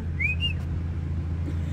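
A short whistle with two rising notes sounds at the start, over a steady low hum.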